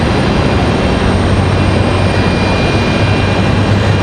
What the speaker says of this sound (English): Do have another arrival, American Airlines, American 2693 coming in from Dallas Fort Worth